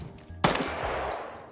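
A sharp burst of gunfire in the Star Citizen video game breaks in suddenly and loudly, then trails into a sustained noisy wash of continued firing. No one talks.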